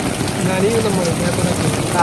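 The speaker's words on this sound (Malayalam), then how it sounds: "അവിടെ നല്ല മഴയാണ്" Heavy rain falls at a zoo's butterfly park as a steady, close wash of drops, with a voice speaking over it.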